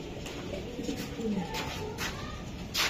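Club racing pigeons of a foreign bloodline coo softly in a loft, with a few low, throaty calls scattered over quiet background noise and faint rustling.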